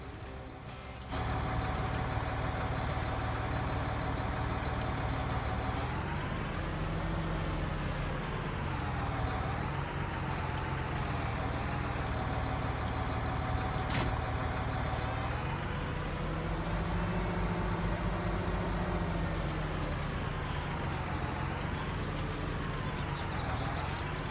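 A John Deere tractor engine in Farming Simulator 2019 drones steadily while pulling trailers, its pitch rising and falling as the load shifts, loud and continuous without any speech.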